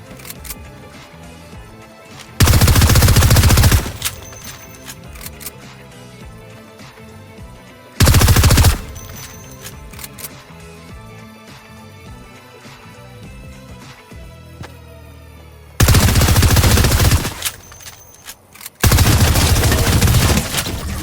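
Burst SMG gunfire from the Fortnite video game, heard as several loud, dense bursts of automatic shots separated by gaps with quieter game sound.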